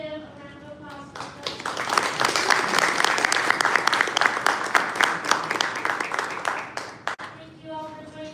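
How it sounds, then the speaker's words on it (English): Applause swells from a small audience at a founders' story event, quickly building into sustained, crisp clapping that fades out near the end, with a speaking voice just before and after it. "let's give a round of applause for"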